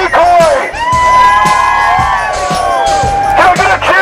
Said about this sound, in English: Can I get a cheer for the Hikoi?